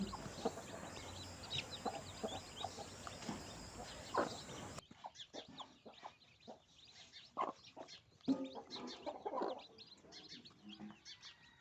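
A hen clucks near a brood of newly hatched chicks, with soft repeated clucks and faint peeping chirps scattered throughout, moderately close and fairly quiet.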